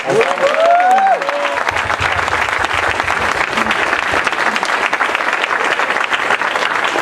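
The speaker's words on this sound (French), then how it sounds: "est-ce qu'on peut applaudir les enfants?" Audience applause for children at a Christmas party, a dense steady wash of clapping that follows a brief tonal sound at the start and runs loud and continuous to the end.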